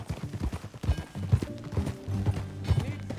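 Horse hooves clip-clop at a steady walking pace in Red Dead Redemption 2, close and fairly loud, with a low musical score underneath and brief game dialogue.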